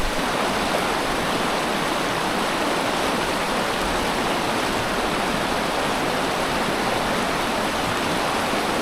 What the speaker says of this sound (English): I tried fishing in this river through a few casts, but it's really fast and I didn't see anything.